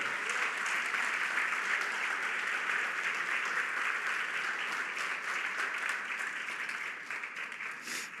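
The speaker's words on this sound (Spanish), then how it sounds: "Dale fuerte el aplauso al Señor." A church congregation applauds during a sermon, a broad, sustained wash of many hands clapping that holds steady for several seconds and then gradually thins toward the end.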